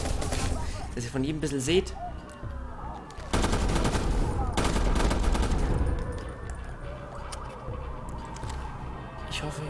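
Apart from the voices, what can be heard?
gunfire from the Chrome gun in the video game Watch Dogs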